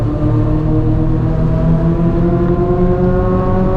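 Race car accelerating hard on the track at Mid Ohio, a loud, steady engine roar with climbing harmonic tones as the throttle opens, close and continuous throughout with no talk.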